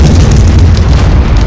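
A creature's destructive attack tears through trees in ARK Survival Evolved Primal Fear, heard as a loud, continuous booming rumble like an explosion, sustained and heavy with no voices.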